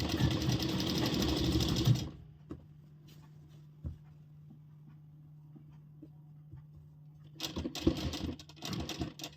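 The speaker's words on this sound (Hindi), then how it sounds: "और इसकी अब सिलाई एक साइड से हम शुरू कर देंगे।" Sewing machine stitching a ladies' salwar, a steady close mechanical whirr and hum running for several seconds between stretches of louder room noise.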